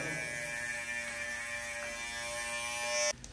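An electric hair clipper fitted with a number 3 guard cutting hair, giving a steady close buzzing whir with a faint crunch of clipped hair, which stops abruptly near the end.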